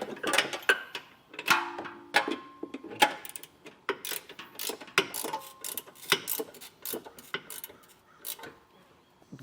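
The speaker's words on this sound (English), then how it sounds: "I used a 19 ratcheting wrench on the serrated flange nuts" A 19 mm ratcheting wrench clicks in short irregular bursts while tightening serrated flange nuts during a Curt trailer hitch install on a 2025 Jeep Wrangler Unlimited, close metallic ratchet ticks with brief pauses between strokes.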